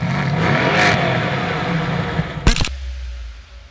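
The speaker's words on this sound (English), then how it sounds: "Anyone who thought a 4-liter V8 was gonna sound bad in the new line of AMGs, you're wrong. This car sounds fantastic." A 2016 Mercedes-AMG GT S with a 4-liter turbocharged V8 revs loudly nearby, a sustained rising engine note that drops off after a sharp mechanical click, leaving a quieter low hum.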